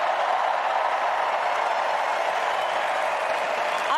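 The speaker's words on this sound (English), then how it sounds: "It's funny watching them clap in fast motion." Audience applause at a political convention, sped up into a dense, fast continuous patter of clapping that stays steady and loud throughout without any voices.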